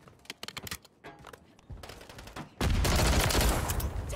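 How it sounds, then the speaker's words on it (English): Gunfire in Call of Duty Modern Warfare 3 multiplayer: scattered sharp shots at first, then a sudden loud sustained burst of heavy automatic fire and explosions filling the second half, with no talking. "Taking effective fire!"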